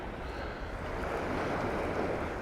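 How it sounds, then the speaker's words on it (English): Small sea waves washing at a beach near a concrete hard standing in Palmanova, heard as a steady broadband wash with wind noise throughout, fairly quiet and continuous with no talk. "Nothing particularly big, but a few waves."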